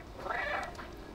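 A single short, clear cat meow from the video game Stray, close and mid-loud over quiet game background.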